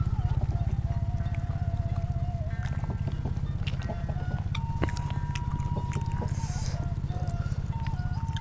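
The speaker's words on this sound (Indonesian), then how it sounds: "Jadi maklum banyak motor." Motorcycles move along a busy roadside next to a street-food spot, giving a steady, close, throbbing engine rumble with faint higher tones drifting over it.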